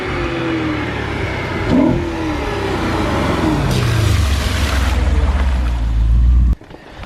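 An Audi RS4 B8 Avant engine revs and downshifts loudly nearby, with rising and falling engine pitch ending in a sharp cutoff.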